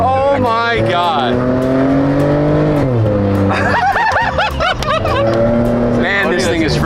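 A Nissan Skyline R34 running in automatic mode accelerates hard at full throttle. Its engine note climbs and drops in loud surges while excited voices shout and laugh over it.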